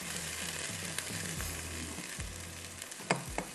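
Boiled mutton pieces in small chunks, poured with their stock into a hot karahi, set off a steady loud sizzle with bubbling and a few stirring clinks, no voices.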